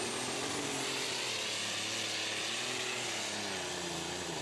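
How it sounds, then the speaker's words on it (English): Unlimited super stock pulling tractor at a tractor pull event, its engine a loud, sustained high-revving roar with a harsh buzzing edge as it hits the rev limiter, continuous throughout. "You can hear this thing as the front end gets way up in the air and actually hits the rev limiter just a bit."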